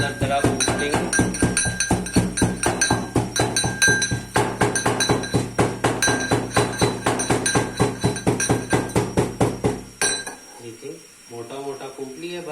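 Whole garam masala being coarsely pounded in a home kitchen, a steady run of sharp rhythmic thuds and clinks, loud and close, that stops abruptly near the end and is followed by a brief quieter stretch.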